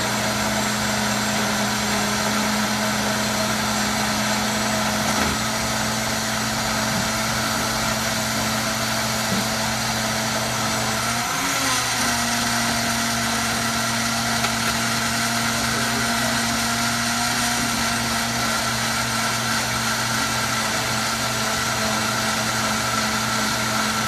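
Blender running steadily while mixing a birria beef marinade, a constant loud motor whir with a steady hum and a brief wobble partway through, no talk.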